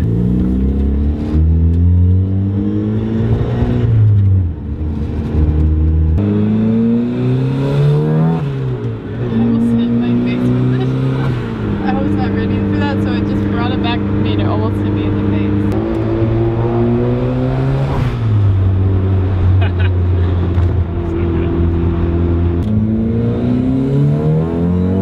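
A turbocharged Mazda Miata runs loud and steady for the whole stretch, its engine note climbing and falling through repeated revs, with the whir of the turbo riding over it and a voice talking underneath.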